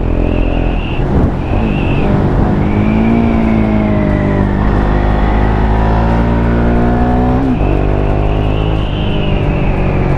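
The single-cylinder engine of a KTM Duke 690 A2 motorcycle revs while riding, rising and falling through the gears with loud, continuous pitch sweeps under steady wind noise.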